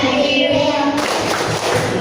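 Children clap their hands while singing a classroom clapping song about angels, the claps steady and broadband under their sung voices through the whole stretch.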